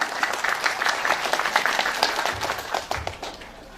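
A crowd at an Islamic sermon in Cianjur breaks into clapping, a lively, fairly close burst of many hands that gradually thins and fades toward the end.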